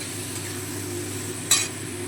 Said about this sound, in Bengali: নুন হলুদটা সবজিগুলোর সঙ্গে খুব ভালোভাবে নেড়ে চেড়ে মিশিয়ে নিচ্ছি